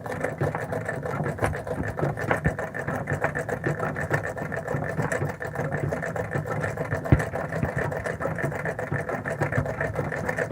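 A vintage treadle sewing machine runs continuously during free motion quilting with a hopping foot, a close, fast, even mechanical whir and rapid needle ticking with no pauses or voices.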